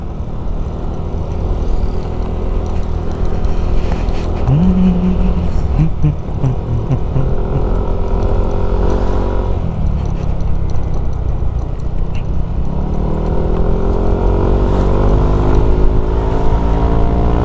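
A Yamaha NMAX scooter engine with a bore-up kit drones close by, revving up and easing off several times in rising and falling pitch sweeps, with no pauses.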